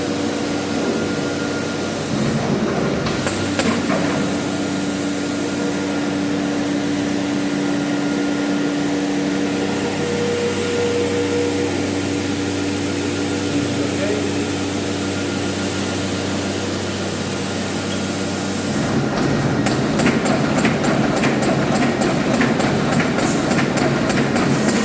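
A Bacciottini automated gluing and folding machine for book covers runs with a loud, steady mechanical drone and hum, then becomes busier and more rattling toward the end.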